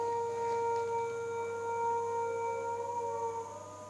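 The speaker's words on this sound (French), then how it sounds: "Il fait nuit, hein, ils sont en train de hurler dehors." Dogs howling outdoors at night, a sustained chorus of long, wavering tones that holds steady and loud before easing slightly near the end, with no talking.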